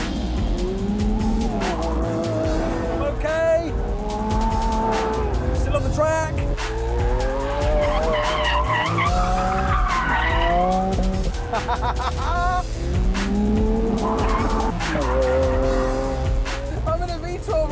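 A Lamborghini Aventador V12 pushed hard through a corner on a race track, tires squealing and skidding in long rising wails over a loud, continuous engine roar, close up.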